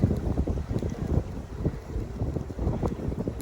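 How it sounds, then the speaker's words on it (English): Gusty wind on a river beside a narrowboat, buffeting close up in loud, uneven rumbling bursts that rise and fall throughout the short stretch. "Honestly, what is it with this summer? It's just so windy."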